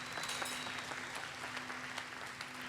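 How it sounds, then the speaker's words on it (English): A steady round of applause from a small crowd, clapping evenly and continuously at moderate volume. "Let's give him another round of applause."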